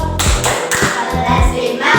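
Fifth-grade elementary schoolchildren perform a class clapping chant, loud close claps in a quick rhythmic pattern mixed with young voices chanting together.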